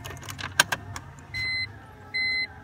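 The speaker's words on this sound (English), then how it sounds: "Let me turn the ignition." Turning the ignition in a BMW E46 M3 brings a few soft key clicks followed by two sustained electronic chime tones, close and fairly quiet inside the car.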